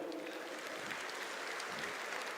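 An audience at a talk on financial astrology claps in a faint, distant, even patter of applause that continues for the full couple of seconds.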